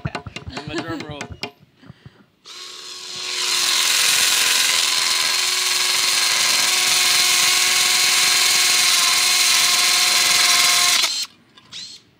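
Milwaukee cordless drill runs at a steady high whine for about eight seconds, loud and close, after brief talk at the start, then stops sharply.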